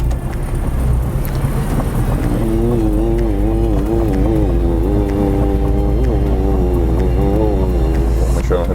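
A Citroën DS vintage car creeps through a tight turn in a parking lot, its engine a steady close rumble with a wavering, rising and falling tone as it maneuvers, with people talking over it.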